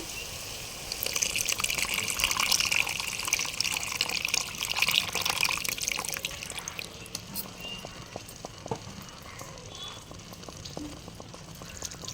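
Tamarind juice being poured into a pot of fish curry, a steady liquid gush and trickle that runs strongly for several seconds, then thins to a fainter pour and dribble.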